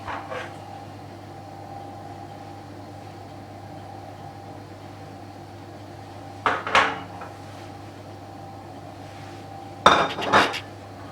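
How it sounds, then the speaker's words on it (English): Metal carrot cake tin flipped onto a cooling rack, giving two separate clattering metallic clanks several seconds apart over a steady kitchen hum. "Now we can flip it onto the rack."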